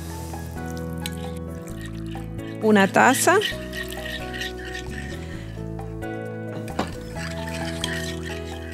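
Warm water is poured into a bowl to dissolve yeast for homemade bread dough, a short splashing fill heard under someone speaking in Spanish.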